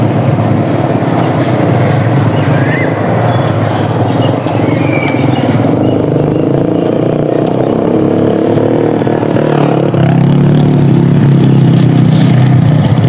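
Loud, continuous engine drone and wind buffeting from a 70cc motorbike descending a steep hill over large stones, with the engine note shifting lower near the end.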